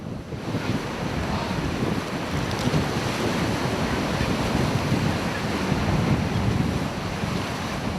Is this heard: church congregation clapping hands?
no